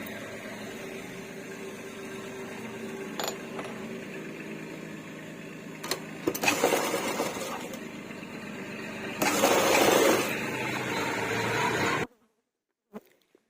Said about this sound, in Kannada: ಮೊದಲು ಇದನ್ನ ಈ ತರ ಫೋಲ್ಡ್ ಮಾಡಿಕೊಂಡು ಸ್ಟಿಚ್ ಮಾಡ್ಕೊಳ್ಳಿ.